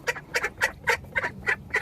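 Call ducks on a small homestead quacking, a close, loud run of about eight rapid nasal calls in a steady rhythm, no talk.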